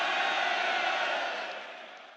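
A live concert crowd at a performance roars in a sustained, loud wash of cheering and shouting that gradually fades over a couple of seconds.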